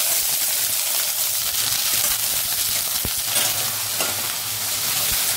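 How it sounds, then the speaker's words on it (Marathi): Drained potatoes roast in hot oil in a kadai over low to medium flame, giving a constant loud sizzle with occasional scraping stirs and small knocks, close and unbroken by speech. "4 ते 5 मिनिटं लो टू मीडियम फ्लेमवर भाजून घ्यायचं आहे."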